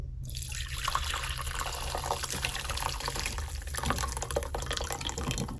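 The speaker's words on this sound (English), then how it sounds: "I'm going to go ahead now to strain and get the water out." Water from boiled groundnuts pours and splashes steadily through a strainer, a continuous close trickling and rushing sound with no talking.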